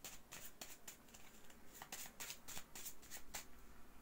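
Oracle cards shuffled by hand in a riffling series of soft, papery flicks and slaps, fairly close and quiet, with no talking.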